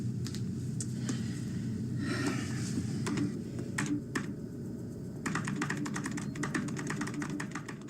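Rapid clacking of fingers typing on a computer keyboard in a Star Trek scene, irregular bursts of close, crisp key taps with short pauses between runs.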